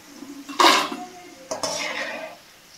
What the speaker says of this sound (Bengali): এবার আমি সব তেলটা ছেঁকে ছেঁকে তুলে নিচ্ছি।